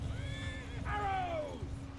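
A horse in the Mount & Blade II: Bannerlord battle game lets out a loud, wavering neigh that rises and then falls away, over a steady rumble of battle noise and faint voices.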